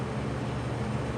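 A vintage Edison Comfort box fan running on its first start, giving a steady, dense whoosh of moving air with a low hum underneath, close and continuous with no talk.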